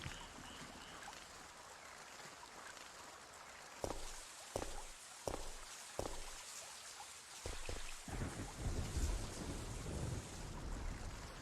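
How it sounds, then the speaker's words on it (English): Steady rain hisses through the Resident Evil 3: Nemesis (1999) game ambience, broken by several sharp, crackling thunder strikes around the middle before a heavier, rumbling wash of storm noise builds toward the end. "Listen to that beautiful rainy ambience."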